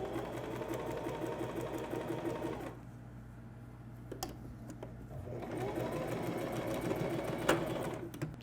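A sewing machine stitches the edges of a homemade makeup bag shut, its steady mechanical whir running in continuous bursts with a brief quieter pause in the middle.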